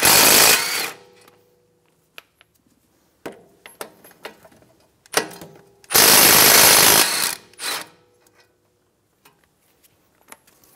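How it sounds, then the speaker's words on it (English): Ratcheting with a 17mm socket on the brake caliper bracket bolts of a 2013-2017 Honda Accord front knuckle, heard as two loud bursts of rapid clicking separated by scattered metallic taps and clunks, no talking. "Using a 17mm socket, remove the brake caliper bracket bolts"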